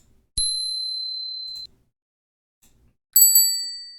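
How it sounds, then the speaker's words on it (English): A bicycle bell rings once with a bright, sustained ring that fades over about a second, then after a pause rings again in a quick double ding, crisp and close. "So let's do bike bell, and then we'll hear a bike bell."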